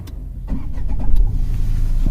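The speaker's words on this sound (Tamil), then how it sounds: "இப்போ நான் வந்து வண்டியை பவர் ஆன் பண்ணுறேன்." A Tata Punch car is powered on: its engine cranks and catches partway through, then settles into a steady, close idle rumble with no talking.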